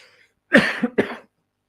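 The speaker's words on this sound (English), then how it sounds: "I've actually had this cough. I've had this cough for a while now." Two harsh coughs in quick succession, close and loud, after a brief faint noise, then silence.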